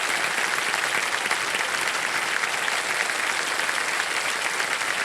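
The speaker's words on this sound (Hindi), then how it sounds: "तालियां बजती रहे इनके लिए" A studio audience on a quiz show applauds a contestant, a thick, unbroken roar of many clapping hands at a steady, loud level from start to finish.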